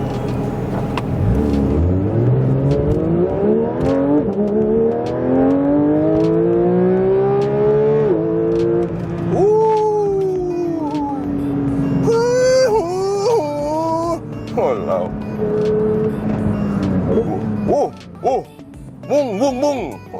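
A Porsche 992 GT3 flat-six rises in a long, loud climbing howl through the revs, shifts up and pulls again, with brief blips and lifts toward the end.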